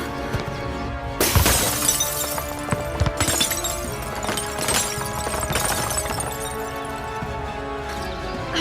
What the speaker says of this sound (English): I still broke it